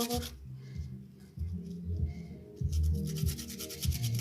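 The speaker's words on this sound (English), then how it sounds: "you use the back part so that you get the small fine gratings of the turmeric" Turmeric root is rubbed against the back of a grater in a kitchen, giving soft repeated scraping strokes at a close, quiet level without speech.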